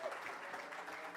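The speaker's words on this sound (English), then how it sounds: "Thank you for the warm round of applause." Audience applause after a conference talk at DevOpsDays Austin 2019, a faint, steady patter of many hands clapping, heard briefly.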